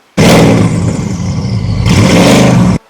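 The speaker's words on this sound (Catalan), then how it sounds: "O el motor d'un cotxe." A car engine revs loud and close, one sustained roar that holds steady, then climbs again before cutting off abruptly.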